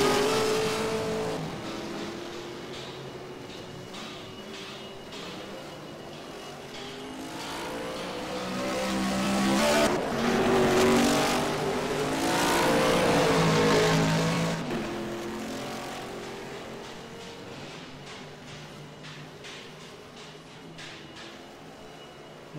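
A Mustang race car drives past on a circuit during a historic racing event, its engine revving and swelling loud as it nears, then fading, with other cars audible around it.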